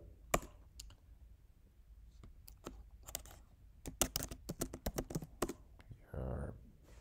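Commands typed on a computer keyboard while installing network controller software on Ubuntu, a quick irregular run of crisp key clicks, close and fairly quiet, ending in a brief heavier tap.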